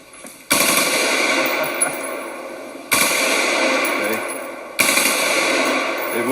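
M16 rifle fired on full auto, three long, loud sustained bursts of rapid gunfire with sharp onsets and ringing echo between them.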